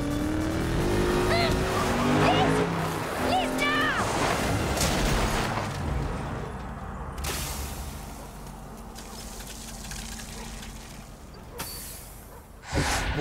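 Car racing from film excerpts: engines roaring and tires squealing loudly in the first half, then fading to a lower rumble of motor noise, with a brief burst of sound near the end.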